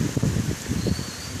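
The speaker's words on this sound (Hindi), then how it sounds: "ऐसी बारिश हो रही है" Steady, dense heavy rain in Karachi hisses continuously with a soft low rumble underneath, no voices.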